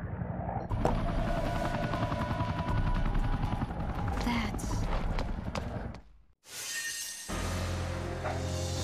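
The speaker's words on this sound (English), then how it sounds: "Yeah, it's a helicopter." A helicopter in the video game Devil May Cry 2 gives off a fast, steady rotor chop over a dense, loud background with clattering effects, then drops to brief silence before a harsher burst of noise.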